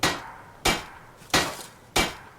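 A blacksmith's hammer strikes metal at a forge in the game Skyrim. There are four loud, ringing blows at a steady, unhurried pace, each decaying briefly before the next, close and with no voices.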